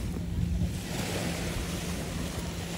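Ocean waves wash steadily onto a beach at a campsite, a continuous broadband rush of surf mixed with gusting wind noise on the microphone, loud and close with no clear breaks.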